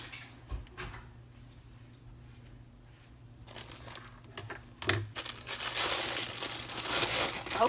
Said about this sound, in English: I need some scissors to open this bag.